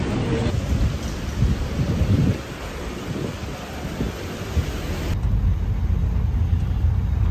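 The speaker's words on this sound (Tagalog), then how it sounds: "Lakas ng ulan niyo." Heavy rain roaring steadily with low rumbling like distant thunder, a dense continuous wash of noise, loud and close, no voices.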